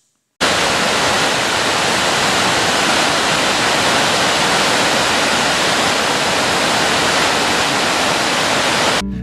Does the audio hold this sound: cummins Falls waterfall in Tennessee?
yes